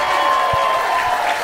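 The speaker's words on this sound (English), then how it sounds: "Clap it up one more time for Grace and Bob." An audience at a stand-up comedy show claps, a steady wash of dense applause sustained for a second and a half, with no pause.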